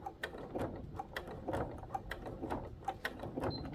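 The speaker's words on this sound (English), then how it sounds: "when you get up to this join, slow your machine right down and just take it steady, because it is going to have to go over quite a bump" A sewing machine stitching slowly over a bumpy faux leather join on a bag: soft, close mechanical ticks and clunks in an even, unhurried rhythm, quiet and with no voices.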